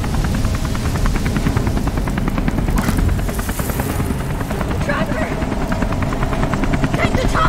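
A helicopter in the video game Beyond Two Souls roars with a loud, steady rotor thump throughout, while a voice shouts over it.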